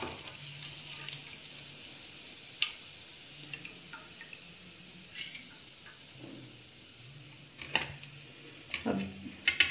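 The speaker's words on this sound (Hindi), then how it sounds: "बाकी बचे चमचम भी मैं इसी तरह से फ्राई कर लूँगी।" Chumchum sweets frying in hot oil, a soft continuous sizzle with scattered crackles and pops, close and moderately quiet, with no speech.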